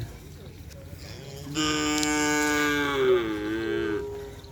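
A small cow lets out a long, loud moo, drawn out for a couple of seconds and sliding down in pitch at the end.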